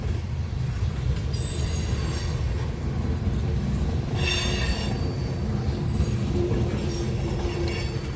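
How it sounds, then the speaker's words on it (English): A northbound BNSF coal train on the Sioux City subdivision near Fremont, Nebraska, rolling past close by with a continuous loud rumble and sustained high-pitched wheel squeal, rising in bursts as cars pass. "Again, this train is heading north on the BNSF Sioux City sub."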